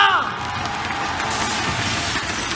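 Arena crowd at a Mobile Legends esports match in Istora Senayan, Jakarta, cheering and applauding in a dense, loud, sustained roar that fills the whole stretch, with a voice faintly mixed in.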